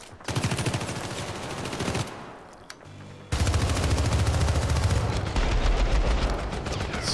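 Rapid gunfire bursts in the video game Syndicate, loud and dense, with a brief lull in the middle before a sustained volley resumes and continues to the end.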